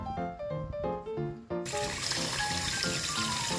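Tap water runs over ground meat in a strainer, a steady trickling gush that turns louder and broader partway through, under background music.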